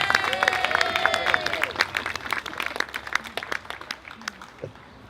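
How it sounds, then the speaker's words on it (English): Outdoors at a peaceful koala protection rally, a crowd breaks into applause mixed with cheers and raised voices that fades over a few seconds. "Everybody cheer, your sign's up."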